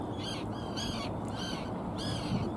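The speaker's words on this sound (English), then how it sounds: "A lot of Arctic terns flying about" Arctic terns calling over a harbour in Belfast, harsh raspy cries repeating in bursts of about half a second over steady wind and low rumbling background noise, moderately near.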